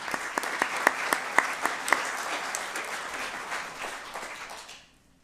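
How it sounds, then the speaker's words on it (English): An audience at an annual meeting claps, starting with a few sharp distinct claps that blend into steady applause, then fading out over a few seconds. "So a big hand of applause to them."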